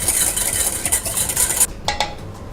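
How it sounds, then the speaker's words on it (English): A beaten egg whisked briskly in a bowl, a continuous scraping and swishing clatter close by that ends with a couple of lighter taps. "give it a nice whisk to the egg"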